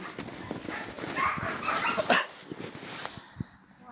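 A dog whimpers and yelps in short bursts over a low background rumble, fairly close by.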